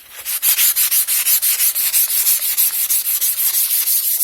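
A tile edge is hand-sanded with 600-grit auto-body sandpaper to round it over. The brisk, regular scratchy strokes repeat close up for the whole stretch, with no talking.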